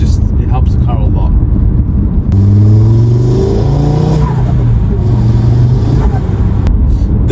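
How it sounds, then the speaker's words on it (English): Loud Audi RS3 engine revving up with a rising, whining turbo tone over a constant roar, close by, with a voice talking over it. "the noises that turbo makes"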